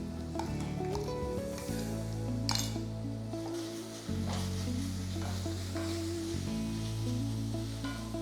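Ground masala paste sizzles steadily in a pan for fish korma, with spoon stirring and occasional clinks against the pan over continuous background music.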